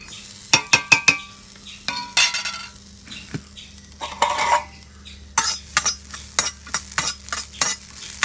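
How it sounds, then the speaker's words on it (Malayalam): Grated coconut is stirred and roasted in a pan for an onion chutney: repeated sharp scrapes and clinks of a utensil against the pan, with a faint sizzle between strokes. "നമുക്ക് വറക്കണമെങ്കിൽ തേങ്ങ വറക്കാൻ പോവാണ്."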